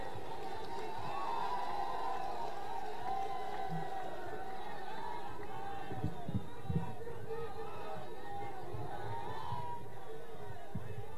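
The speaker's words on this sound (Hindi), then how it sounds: "आप लोग जोरदार तालियां बजा के प्रियंका दीदी का स्वागत करें।" A large crowd at an outdoor Congress public meeting in Barabanki, Uttar Pradesh, applauds and cheers to welcome Priyanka Gandhi, a sustained dense roar of clapping and voices with steady babble throughout.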